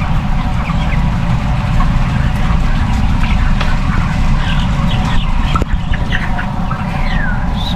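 Around 40,000 chickens crowd a farm house, a dense, constant wash of clucking and calling over a steady loud hum, with scattered sharper calls throughout.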